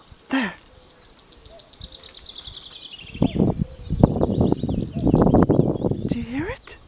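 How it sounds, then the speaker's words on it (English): A common cuckoo calls in a quick series of chirps early on, faint from across a road in spring, then rustling and handling noise up close drowns the background. "That's the first cuckoo of the spring."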